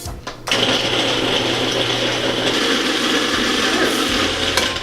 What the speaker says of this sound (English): just put all your pieces into the food processor